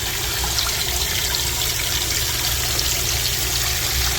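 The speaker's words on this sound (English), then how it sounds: "So this is the rinse water going in." A washing machine filling with rinse water after its wash cycle, a steady close rushing and trickling of water pouring into the drum, constant and loud throughout with no talk.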